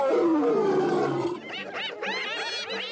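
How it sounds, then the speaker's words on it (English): An African lion roars loudly and close, a deep rumbling growl that gives way to a series of shorter grunting calls. "The African lion is the king of beasts."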